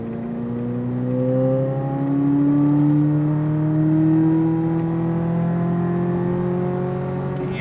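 A Corvette Z06 engine pulls hard on a race track, its tone rising steadily through long, climbing revs that swell and ease slightly, loud and close with a continuous whirring drone.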